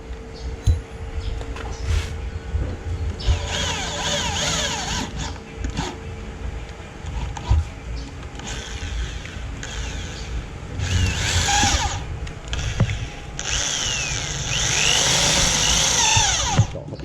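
A power drill boring through a part on a motor vehicle during an assembly job, with repeated bursts of high whining drilling between rumbling pauses, close and fairly loud over roughly seventeen seconds.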